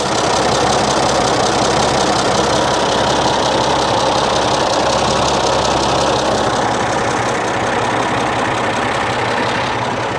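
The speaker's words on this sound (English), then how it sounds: "Smooth running machine though." A 1940 Oliver 70 row-crop tractor with a six-cylinder engine runs steadily nearby, loud and continuous with an even mechanical rumble and no interruptions.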